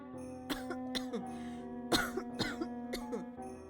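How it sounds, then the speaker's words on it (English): A girl is seized by a fit of coughing, several sharp, close coughs in quick bursts, with some throat clearing over a low steady background tone. "As Yua spoke, a sudden fit of coughing seized her"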